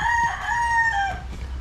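A fighting rooster gives a single close, loud crow, a drawn-out strained call that falls off at the end over a low background rumble.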